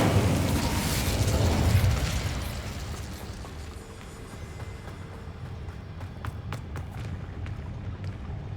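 A fire spell, Incendio, is cast in the Hogwarts Legacy video game, giving a loud rushing, roaring burst that swells over the first two seconds and then fades into a lower crackling rumble with a few sharp pops.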